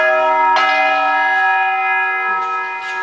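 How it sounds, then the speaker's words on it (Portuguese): Church bells ring in São João del Rei, a sustained resonant peal with a fresh strike near the start and fainter strikes later, ringing out clearly on their own. "A cada toque de sinos,"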